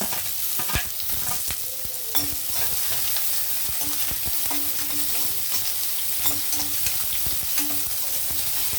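Onion and carrot frying in hot oil for green peas pulao give a loud, constant sizzle broken by sharp pops and stirring scrapes from a spoon against the pan, with no voices.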